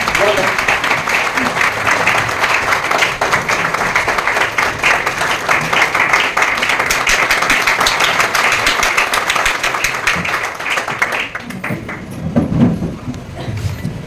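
An audience bursts into loud, sustained applause for the chief guest, a dense wash of clapping that runs steadily for about eleven seconds before fading as a voice begins talking.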